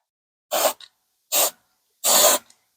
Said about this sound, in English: So we're just gonna spray a little bit